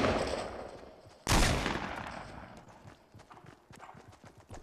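Gunfire rings out between players in Fortnite, starting with one sharp, loud burst and then a string of quieter, scattered shots over ambient game noise.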